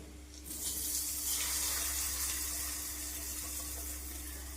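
Hot tempering is tipped into gongura chutney with the stove off, setting off a sudden loud hiss and sizzle that holds steady for several seconds.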